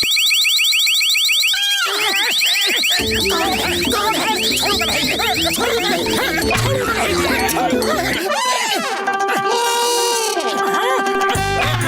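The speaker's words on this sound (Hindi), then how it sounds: "अब कोई भी इस तिजोरी को छुएगा तो अलार्म बज जाएगा" A cartoon alarm rigged on a safe blares when someone touches it: a loud, insistent electronic wailing and beeping tone, repeating steadily for several seconds and swelling into siren-like sweeps near the end, with voices chattering beneath it.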